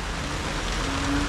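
Heavy rain falling over a flooded rice field area, a dense steady hiss of downpour, loud and continuous through the short stretch, with no voices.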